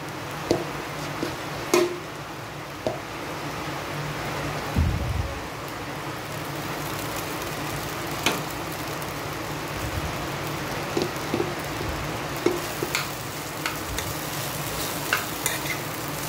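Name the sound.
sabudana added to pan and stirred while frying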